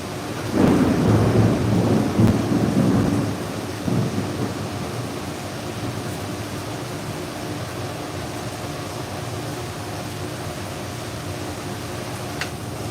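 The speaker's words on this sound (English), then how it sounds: "Can y'all hear the thunder and lightning?" A deep, rolling rumble of thunder swells early and fades away, leaving a steady wash of rain and a soft hum from room fans running indoors.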